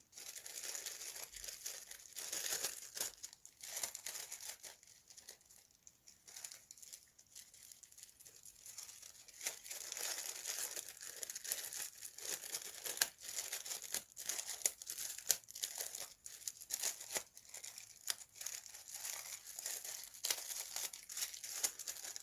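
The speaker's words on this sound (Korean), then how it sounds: "비닐 장갑," Plastic vinyl gloves crinkling as they are handled while making a gemstone craft wish tree: soft, irregular rustles and crackles that go on throughout, close and quiet, with no voices.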